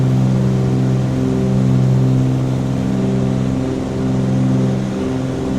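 Steady droning twin piston engines of a Cessna 414AW in Microsoft Flight Simulator 2020, loud and constant cabin hum with strong low harmonics and a slight swell midway, no talking.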